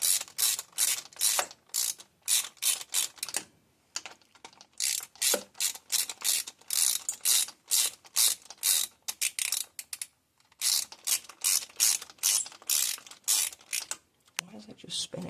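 A hand ratchet tightens bolts on a hot rod, its pawl clicking in quick, close, crisp strokes with brief pauses between runs, moderately loud with no talk.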